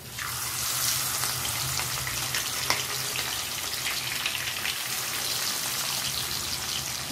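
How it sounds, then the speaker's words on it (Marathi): Prawns, with their legs added too, frying in hot oil in a kadhai, making a steady, dense crackling sizzle that runs close and unbroken the whole time, with no speech. "ती जी प्रॉन्स आहे ती आपण थोडीशी तेलावर फ्राय करून घेणार आहोत।"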